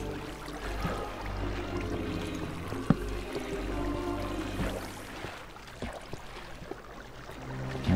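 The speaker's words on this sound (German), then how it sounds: "Die Wasserquelle können wir jetzt mal zumachen hier." A flowing water source in the video game Minecraft trickles and pours quietly beneath low background game ambience, with a few faint clicks and knocks.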